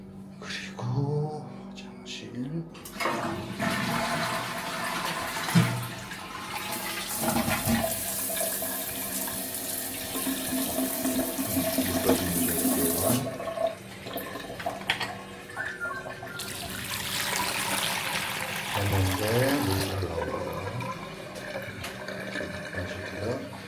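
Water gushes from a kitchen sink tap in an apartment and drains away in two long bursts, with quieter gaps, faint talk and small handling noises between them.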